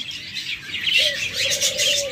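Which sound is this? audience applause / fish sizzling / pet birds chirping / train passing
pet birds chirping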